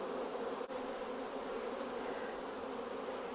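Dense, even buzzing from a hive packed full of honeybees and brood, a continuous close hum with no voices and one faint click early on.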